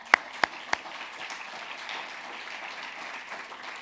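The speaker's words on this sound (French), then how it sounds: "Je pense qu'on peut les applaudir" Audience applause at a French digital accessibility event, faint and distant, opened by three sharp loud claps close by before settling into a soft steady patter.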